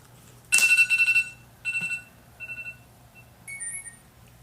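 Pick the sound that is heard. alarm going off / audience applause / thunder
alarm going off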